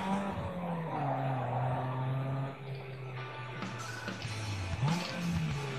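A car drifts in Need for Speed Underground 2, its engine droning steadily while tires squeal in sustained screeches, loud and close, with shifting pitch as the slide continues.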